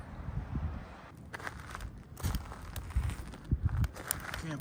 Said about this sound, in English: Campfire is burning.